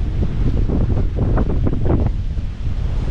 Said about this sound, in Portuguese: Vou vir pra cá por causa do vento, venta muito.